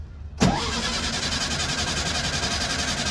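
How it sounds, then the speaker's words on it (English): Old engine at an auction cranks and fires after the accelerator is pumped, catching with a sudden loud burst and then settling into a steady, slightly uneven idle nearby. "Fire up, guys. It's running. It's running."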